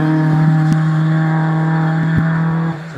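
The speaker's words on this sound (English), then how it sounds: "there's a small batch of double-driven cars going up at the moment" A hillclimb race car at Doune accelerates up the course, a loud steady engine drone with sharp gear-change clicks, easing off at the end.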